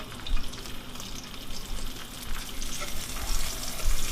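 Bacon and Portuguese sausage fry in a pan with a steady, close sizzle and crackle, broken by a few louder spits and pops.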